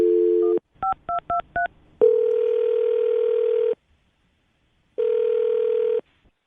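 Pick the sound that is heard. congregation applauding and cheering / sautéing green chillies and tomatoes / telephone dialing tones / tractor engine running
telephone dialing tones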